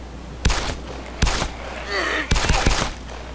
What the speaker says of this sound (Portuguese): Precisei atirar no zumbi.